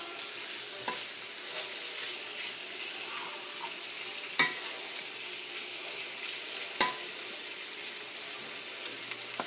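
Beef and broccoli stir fry sizzling steadily in a pan, a close, constant hiss with a couple of sharp clanks as the food is kept moving; no talking.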